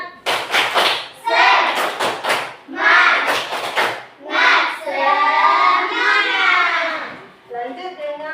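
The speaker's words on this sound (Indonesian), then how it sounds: "Kalau semangat kita tepuk semangat satu kali dulu." A group of children performs a tepuk semangat, a rhythmic clapping chant in a school setting, with sharp clap bursts mixed with loud chanting voices throughout.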